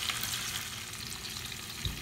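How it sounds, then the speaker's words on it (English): Salmon fillets sear in a pan over medium heat, a steady close hiss and crackle of frying that runs the whole time without speech. "You want it medium both sides, so that it will cook on both sides and brown."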